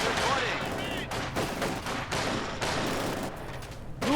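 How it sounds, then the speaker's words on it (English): Rifle grenade blast and rolling gunfire from the World War II strategy game Company of Heroes 2, dense overlapping shots and explosions in a continuous loud battle mix with voices faintly underneath. "nice particular rifle grenade there"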